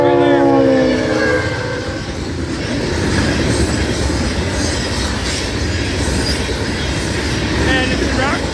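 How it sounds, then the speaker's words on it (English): Freight rock train on the Florida East Coast Railway rolling past close by with loud rumbling wheels and steady clatter, a horn blast fading at the start and faint wheel squeals, no talk. "And it's a rock train."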